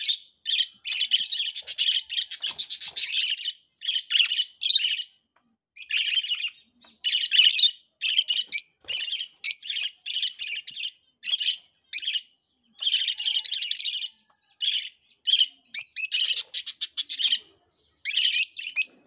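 Lovebirds (rosy-faced or Fischer's) chirp and squawk in rapid, shrill bursts, loud and close, with short pauses between busy flurries of calls.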